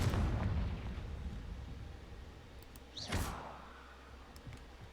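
A blasting spell cast in the Hogwarts Legacy video game goes off as a single loud burst of explosive noise mid-clip, rising out of low rumbling game ambience and then fading into a quieter tail.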